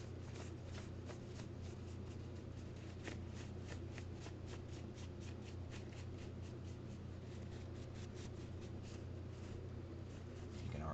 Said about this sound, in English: I'm just going to take my paper towel and wipe in the same direction as the